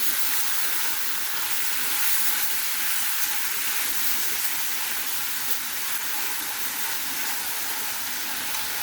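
Beans and mixed vegetables for pansit cook in a hot pan with a dense, unbroken sizzle that holds at an even loudness throughout.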